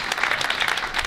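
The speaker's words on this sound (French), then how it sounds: "on applaudit toute l'équipe communale de Yopougon à sa tête, le citoyen Amos Gobi." Crowd applause at a political party mobilization rally in Yopougon, Côte d'Ivoire, a short dense burst of many hands clapping, steady and fairly loud.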